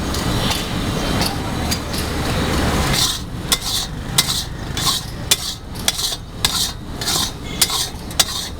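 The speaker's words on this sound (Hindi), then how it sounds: "पिस्ता जो है शीरे के अंदर अच्छी तरह से मिक्स हो रहा है। इसकी गुडाई हो रही है।" Pistachios churned into thick sugar syrup in a pan at a small sweet shop, making pistachio chikki: a scraping, rasping metal stir at first, then a run of sharp clinks as the utensil strikes the pan at a steady rhythm, close and fairly loud.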